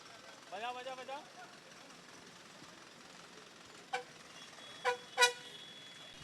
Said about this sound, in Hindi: ये स्कूल बस है लेकिन प्रेशर हॉर्न जरूर है इनमें